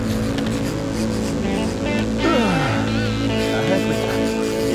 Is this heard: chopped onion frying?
no